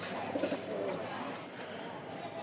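Soft, faint cooing from a pair of white, feather-footed fancy pigeons in a loft, murmuring low beneath a steady background hiss.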